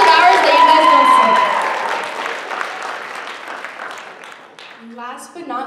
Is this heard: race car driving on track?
no